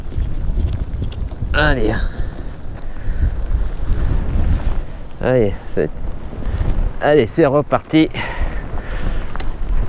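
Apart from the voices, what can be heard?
wind noise while cycling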